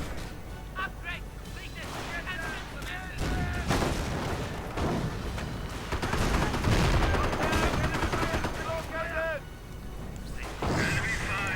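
Rifle gunfire crackles in a World War II strategy game battle as riflemen advance and fall, dense bursts of shots layered over game effects, with a commentator talking throughout.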